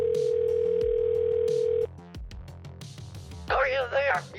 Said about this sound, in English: I'm just gonna call him from the other number real quick.